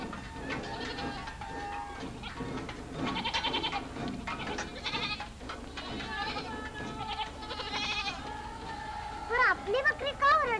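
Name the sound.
goats bleating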